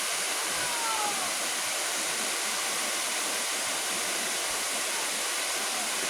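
Tad Champi waterfall in Laos roars as a steady, dense broadband rush of falling water, close and continuous throughout with no voices.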